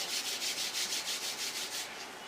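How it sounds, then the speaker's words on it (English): Palms rub together in a quick, even back-and-forth rhythm during a qigong warm-up, close and soft, with no talking over it. "Rub your hands."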